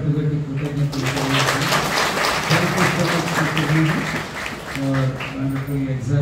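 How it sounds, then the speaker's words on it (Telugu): A church congregation applauds during a worship service, steady clapping from many hands mixed with a sustained musical or vocal tone underneath. "మనందరి తరఫున చప్పట్లు పెట్టి కృతజ్ఞతలు"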